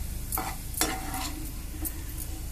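Pirandai (adamant creeper) sautéing in a pan, a steady close sizzle with a few sharp scraping strokes of a spatula stirring it.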